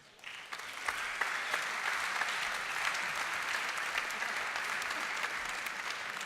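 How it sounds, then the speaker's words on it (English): Audience at the finals of the Present Your Startup Global 2018 competition applauds as five finalists come on stage. The clapping is dense and sustained, starting softly and quickly building to a steady, even roar with no speech. "So give them a round of applause."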